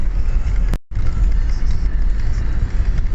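A car travels along the Kyiv–Dnipropetrovsk highway, with a loud, steady road roar and low rumble throughout, briefly cut to silence before resuming.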